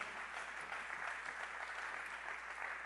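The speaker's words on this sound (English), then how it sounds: "Somebody clap your hands." A church congregation claps hands in a faint, distant, continuous patter of many hands, steady and even across the whole stretch with no voices standing out.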